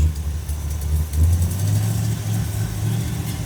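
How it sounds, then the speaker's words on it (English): A Ford engine revs upward after carb cleaner is sprayed into the carburetor, a steady low idle rumble rising and swelling briefly, close and fairly loud. "I'm gonna spray carb cleaner down in the carb. It'll rev up, indicating we have a lean condition or vacuum leak."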